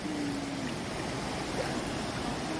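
A cool creek flows near a waterfall in a camping area at Gürleyek, Eskişehir, producing a steady, full rushing of water that continues without a break and is close and fairly loud.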